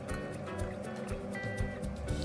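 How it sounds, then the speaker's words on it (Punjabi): Tomato puree poured into a hot pan while cooking an aloo baingan (potato and eggplant) curry gives a steady, wet sloshing and sizzling texture, close and continuous with no talk. "ਆਪਾਂ ਇਹਦੇ ਵਿੱਚ ਟਮਾਟਰ ਦੀ ਜਿਹੜੀ ਪਿਊਰੀ ਤਿਆਰ ਕੀਤੀ ਸੀ ਐਡ ਕਰ ਦਾਂਗੇ"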